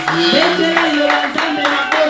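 A church congregation at a French-language sermon applauds in acclaim of the word of God, a dense burst of many hands clapping that carries on under a few short vocal cries.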